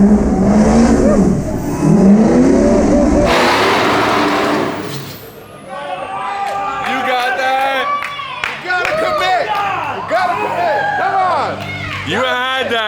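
A 700HP diesel Ford F-250 revs loudly in a short, roaring burst as the driver tries a donut, then fades under the excited chatter of a crew gathered nearby.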